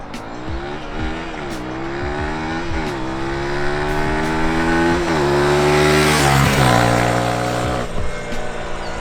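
A Honda CB300R single-cylinder motorcycle with its stock exhaust revs and accelerates through the gears, the engine note rising and dropping in steady steps, loud and close, with a brief tire skid near the end.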